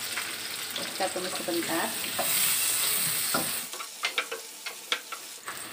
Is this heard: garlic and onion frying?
yes